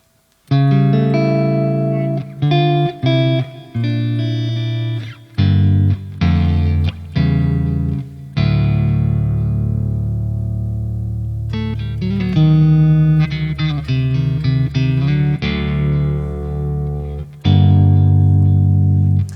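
Electric guitar in clean tone on single-coil pickups through a REDSEVEN D100PRE amp with controls at noon, playing chords and picked notes that ring out and decay, loud and alone with no talking.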